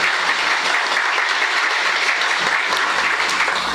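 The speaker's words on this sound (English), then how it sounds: "Please give them a round of applause." Sustained, dense audience clapping fills an award ceremony hall, steady and even from start to finish with no voices over it.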